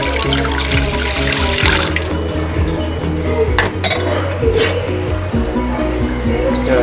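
Water runs from a tap into a cooking pan set on the heat before pork goes in to boil, with a steady pouring hiss and the light clink of metal under it. A voice speaks faintly in the background.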